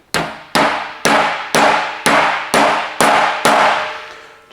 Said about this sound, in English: Just a few light taps to locate it